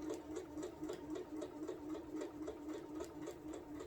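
A sewing machine stitches a quilted fabric placemat with a steady, fast, rhythmic whirring hum, close and continuous throughout, with no voices.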